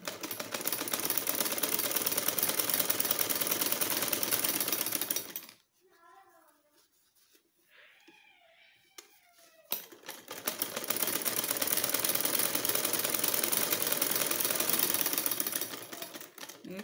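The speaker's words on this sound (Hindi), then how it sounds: "इसको हम ऐसे रख के इसे सिलाई लगा लेंगे" A sewing machine stitching a shirt cuff, running in long loud rapid rattling bursts before and after a quieter pause with a few clicks and brief voices.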